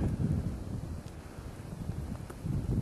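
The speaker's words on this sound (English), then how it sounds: "it's a little windy." Wind gusting steadily beside a small pond still frozen over in late March, a low continuous rumble buffeting the microphone with a few stronger swells near the start and end.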